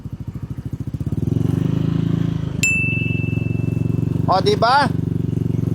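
A motorcycle engine revving through its exhaust during a decibel test, with the meter held at a 45-degree angle half a metre from the pipe; a loud steady close drone rising in pitch, with a brief beep and people talking over it.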